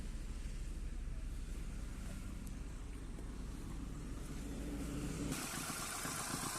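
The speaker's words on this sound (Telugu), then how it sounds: "ఇంజన్ సౌండ్ చూపిస్తాను." A 2014 Hyundai i10 Sportz petrol car's engine running, heard as a steady low hum and rumble throughout, with a brighter, busier mechanical texture in the last second.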